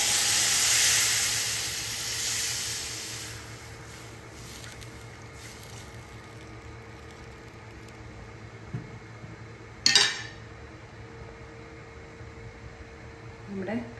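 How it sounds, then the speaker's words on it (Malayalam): Water poured into roasted spice powder in a pan for a fish curry, a bright hissing sizzle that is loudest at first and fades over several seconds, leaving a faint simmer. "നമ്മളതിനകത്ത് കുറച്ച് വെള്ളം ഒഴിച്ച് കൊടുക്കാം."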